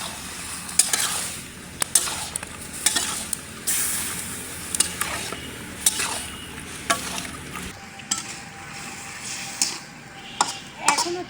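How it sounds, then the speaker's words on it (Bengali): Meat seasoned with salt, cinnamon and bay leaf sizzles in a pan while a spoon stirs it in a rhythmic series of scrapes and knocks, roughly one per second, over a constant frying hiss. "এখন মাংসগুলো নেড়ে চেড়ে নেবো"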